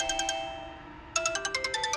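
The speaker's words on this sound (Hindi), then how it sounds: "किसका फोन है?" A phone ringtone plays alone: a bright, repeating electronic melody of quick tones that pauses briefly, then resumes in a clearer, louder burst of rhythmic notes, with no talking.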